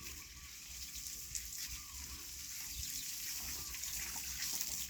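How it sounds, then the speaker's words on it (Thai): Water sprays steadily to wash dust off a surface, producing a continuous, fairly quiet hiss and splash that builds slightly toward the end, with no speech. "ฉีดเฉยๆฝุ่นก็ออกแล้ว"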